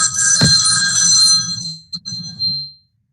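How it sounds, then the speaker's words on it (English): A phone rings with a bright, trilling electronic tone, loud and close, sustaining for over a second and then repeating in shorter chirps before stopping. "Hang on a second, my phone's ringing here."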